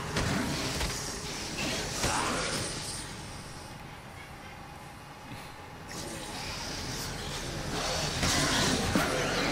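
A vehicle rumbles along in Dead Rising 2, its engine giving a continuous droning roar that rises and falls, with someone talking over it.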